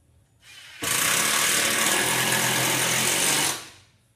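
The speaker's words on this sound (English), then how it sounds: "Put a couple more screws in this one." A power drill drives screws into a Tomahawk bowling target board, giving a steady, loud whirring drone of about three seconds that starts abruptly and winds down at the end, with no one talking.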